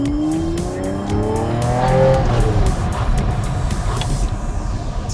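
A 1986 Ferrari Testarossa accelerates hard, its engine note climbing through the revs before fading into loud road and wind noise with a brief tire squeal, heard from inside the car without talk.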